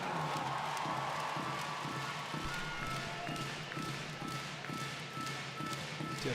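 Near-capacity arena crowd at the Hovet during a Sweden vs Serbia women's handball match at the Women's EHF EURO, a steady, distant murmur with the regular thud of a bouncing ball running through it.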